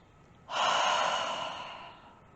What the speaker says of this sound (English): take a deep breath out of the mouth together